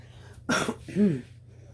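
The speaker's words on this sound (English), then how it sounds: "You'll have to excuse me with my coughing" Two short, harsh coughs close to the microphone, the second rougher and more throaty, followed by quiet.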